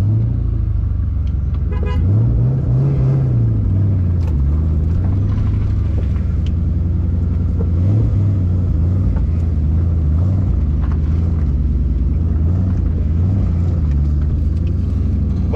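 A drift car with a welded differential and 4.10 rear gears drives past, its engine rumbling low and steady with revs rising and falling in waves, loud and close throughout with no talk.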